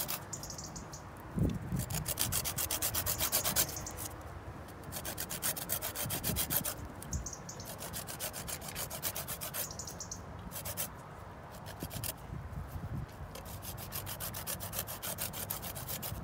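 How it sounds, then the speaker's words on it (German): Lime peel rubbed against a grater for zest, taking only the green skin, gives repeated close rasping strokes in uneven bursts with brief pauses, no talking. "Brauchen wir jetzt noch ein bisschen Abrieb."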